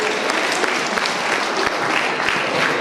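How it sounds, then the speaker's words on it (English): A church congregation claps to welcome a pastor, steady dense applause filling the whole moment with faint voices beneath. "can you all give a clap and thunder?"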